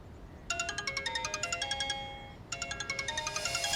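A phone ringtone in a Bhojpuri drama scene plays a bright, repeating melodic pattern of chiming tones, stopping briefly midway and then starting again, loud and clear with no talk over it.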